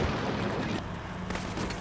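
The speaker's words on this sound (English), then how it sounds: "putting grenades into the Polytechnic" Grenades fired by a Stryker into a polytechnic building during a Combat Mission Shock Force 2 battle: dense, continuous booming blasts and gunfire, loud and rumbling with a few sharper reports.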